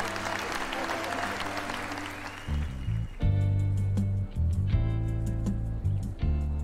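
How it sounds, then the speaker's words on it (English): Wedding guests applauding for the couple, a crowd of claps at first, then music with a deep beat comes in and takes over partway through. "Give them a round of applause."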